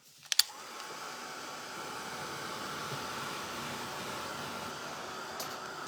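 A handheld dryer blows to dry paint on a stencilled Christmas tree sign, a steady, fairly quiet whooshing hum after two sharp clicks as it switches on.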